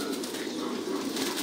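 Pigeons at a pigeon farm make a dense, steady wash of cooing and rustling wing flaps, loud and continuous throughout with no talk.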